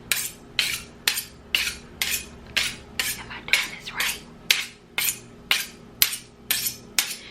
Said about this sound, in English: Think this knife will do. Try to sharpen it.